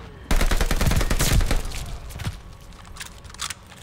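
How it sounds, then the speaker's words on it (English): Rapid automatic gunfire in the Call of Duty Vanguard video game, a loud close burst of shots for about two seconds that fades into scattered fainter shots. "I thought I saw somebody shooting him"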